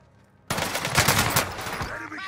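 Gunfire in a multiplayer shooter game erupts suddenly after a quiet moment, a loud, sustained burst of rapid shots at close range that keeps going for about two seconds.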